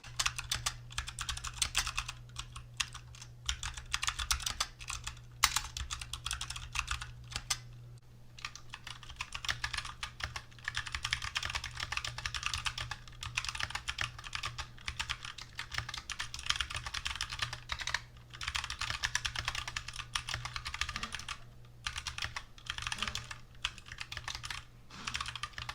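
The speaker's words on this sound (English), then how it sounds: "And now here's a quick before and after with the typing test." Continuous fast typing on a mechanical keyboard whose stabilizers have been greased with dielectric grease, a dense, close stream of clicky keystrokes with no talking.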